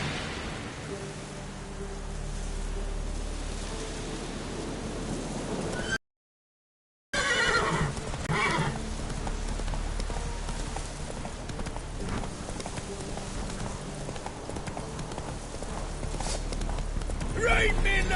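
Roach the horse in The Witcher 3 galloping with steady clip-clop hoofbeats over a rainy, noisy outdoor bed, a short break midway, then continuing loud and close; a voice speaks over it.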